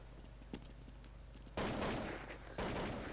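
An MP5 submachine gun in a competitive shooter match fires two short, loud bursts over a low background hum, the second starting about a second after the first.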